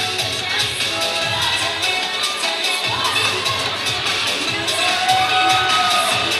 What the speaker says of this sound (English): The crowd is into this cheering performance.